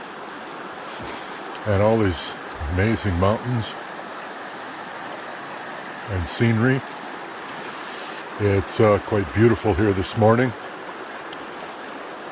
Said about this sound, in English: the best part is I'm right by this river